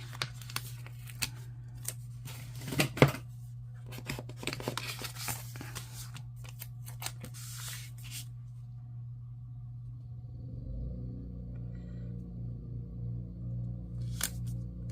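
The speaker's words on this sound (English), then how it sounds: "Some of these stickers are kind of hard to get off the page." Stickers are peeled off a planner page in quiet, close, crackly rustling bursts, then give way to a faint low rumble in the background.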